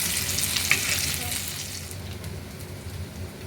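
Food fries in oil in a pan, a son learning to cook, giving a steady close sizzle with no talk over it.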